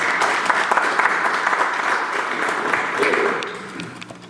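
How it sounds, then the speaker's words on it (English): Audience applause at a Rotary Club meeting, a steady wash of many hands clapping at even loudness, easing slightly toward the end. "So, round of applause for you"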